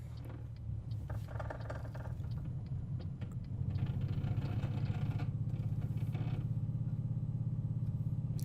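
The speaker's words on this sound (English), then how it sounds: "It's not a nice noise this truck makes, I have to say." A Renault Range T480 Euro 6 V6 truck in Euro Truck Simulator 2 gives a steady, low droning engine note. It grows louder and rougher partway through and holds there, with no talking.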